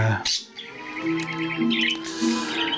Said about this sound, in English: Birds have perked up a little bit